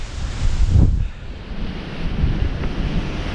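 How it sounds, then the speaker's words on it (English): Strong gusts buffet a Eurohike Tamar 2 tent at a wet, windy wild camp, a rough low roar of wind with a louder surge early on, then steady blustery rumbling and flapping. "You can see it's still getting buffeted around by the wind at the moment."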